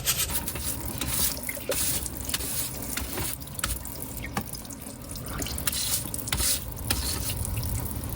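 A lobster is rinsed under running water on the coast, a steady close splashing stream broken by irregular drips and knocks as it is handled.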